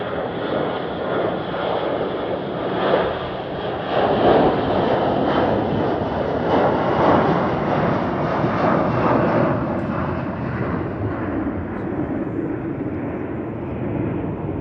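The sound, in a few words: airplane taxiing at Paro airport, Bhutan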